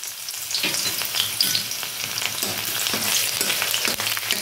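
Chopped garlic drops into oil with dried red chillies already frying, setting off a steady, loud sizzle that crackles on without pause, with faint stirring scrapes beneath and no voices.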